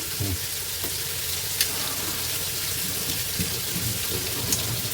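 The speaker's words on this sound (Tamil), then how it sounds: "ஸோ மீனை ஃப்ரை பண்ணி எடுத்துக்கலாம்." Fish frying in oil in a pan makes a loud, dense, continuous sizzle close by. The crackle holds steady throughout, with a few faint clicks on top.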